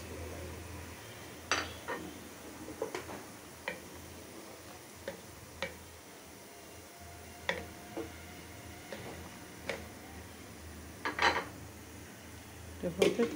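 Hilsa fish cooking in a pan, quiet clinks and taps of a utensil against the pan at irregular intervals over a soft, low background hum, with no talking.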